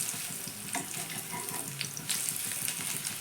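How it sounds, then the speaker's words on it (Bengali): Pumpkin flower fritters fry in a pan over a medium gas flame, producing a soft, continuous sizzle and bubbling of oil with a few faint clinks, fairly quiet and without talk. "বড়াগুলো ভাজার সময় গ্যাসের ফ্লেমটা একদম হাইতে রাখবে না, গ্যাসের ফ্লেমটা মিডিয়ামে রেখেই বড়াগুলো ভেজে নেবে।"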